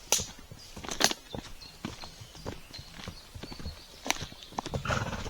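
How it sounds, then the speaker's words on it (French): A horse out on a ride, hooves clip-clopping in an irregular walking rhythm at moderate distance, with a few brief whinny-like calls and faint background noise. "c'est un beau cheval de galop, vraiment."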